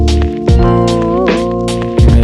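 A lo-fi hip-hop beat with chords and drum hits dips briefly in pitch around its middle, a short detune warble before the tune settles back.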